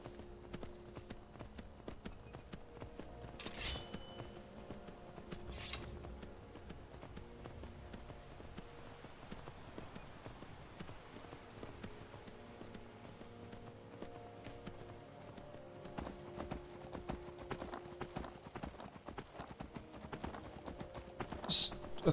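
Horse hooves clip-clop in Skyrim as a rider travels along, a steady rhythmic clatter at moderate level running the whole time, with occasional louder thuds and a few brief bright chimes.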